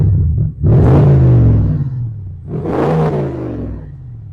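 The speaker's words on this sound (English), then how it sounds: "I'm just going to give you an indication as to what this exhaust. I don't normally rev engines" A 2024 Range Rover Sport P530 stands still while its engine is revved twice through a switchable exhaust. Each burst is loud and deep, rising and then dying away, with no talk over it.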